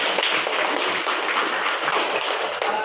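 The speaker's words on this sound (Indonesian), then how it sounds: "Tepuk tangannya" A classroom full of students applauds in a dense, continuous burst of clapping, close and steady for a few seconds with no talking.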